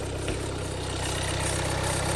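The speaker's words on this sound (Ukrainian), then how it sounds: "Мотор працює гарно в машині." A Skoda Yeti engine idles steadily close by, a low, even rhythmic rumble with no voices.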